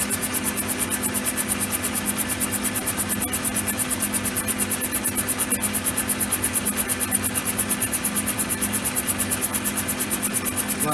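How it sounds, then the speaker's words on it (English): A lathe turns a bronze bush held on a mandrel, giving a steady, close mechanical hum with a fast, even rhythmic ticking that runs unbroken throughout. "We've finally got the mandrel made for turning the OD of the brass bush, the bronze bush I should say."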